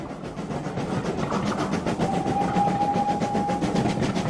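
A train runs on rails with a steady rumbling roll and rhythmic clatter from the wheels. A sustained tonal hum joins midway, all close and moderately loud.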